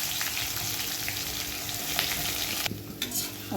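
Onion goes into hot oil with curry leaves, cumin and turmeric for an eggplant dish, giving a steady close sizzle with stirring scrapes and a brief dip near the end.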